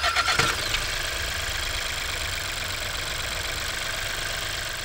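A VW Taigo 1.0 TSI engine idles after a brief start burst, settling into a steady low running hum heard alone.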